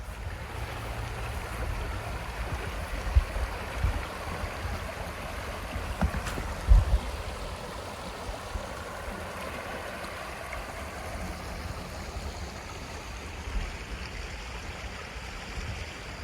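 The Heritage River in Quebec flows with a steady broadband rush that stays constant for the whole stretch. A few soft thumps surface now and then, and no voices are heard.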